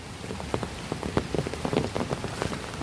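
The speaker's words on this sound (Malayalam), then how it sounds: "മഴ തോർന്നിട്ടില്ല." Steady rain falls and patters on surfaces in the Kerala hills, close and continuous, with individual drops tapping out sharply above the soft wash of the downpour.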